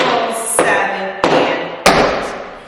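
Tap shoes brush and strike a hard floor in quick shuffles, with three crisp accents evenly spaced, close and clear.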